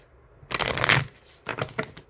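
Tarot cards being shuffled in two bursts of riffling and rustling, a long close flurry followed after a short pause by a briefer one, with no voices.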